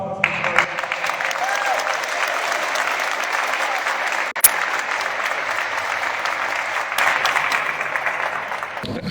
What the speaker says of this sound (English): please a round of applause for Mr. Speaker.